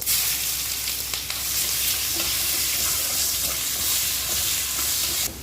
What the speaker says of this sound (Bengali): দেখো পেঁয়াজটা আমার ভাজা হয়ে গেছে